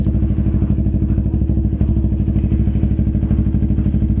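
A motorcycle engine runs steadily up close, with a loud, continuous, evenly pulsing throb and a faint mechanical clatter, and no voices over it.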